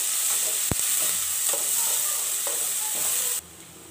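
Onions sizzle steadily in a hot pan, frying toward golden brown, with a sharp utensil knock near the start and a few soft scraping stirs before the sizzle drops away at the end.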